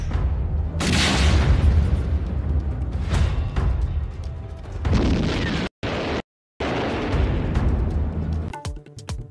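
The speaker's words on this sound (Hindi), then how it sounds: "काबुल एयरपोर्ट के बाहर धमाके करके" Explosions outside Kabul airport are captured in news footage, a series of heavy booming blasts with rumbling aftermath, loud and close, broken by brief dropouts.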